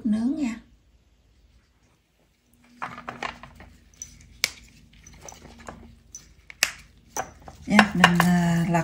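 Roasted asparagus spears being flipped on a metal tray, giving scattered light clinks and scrapes of utensils against the pan, with a voice talking briefly at the start and near the end.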